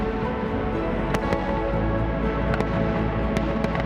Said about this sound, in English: And then the fireworks start, timed perfectly with a night sky.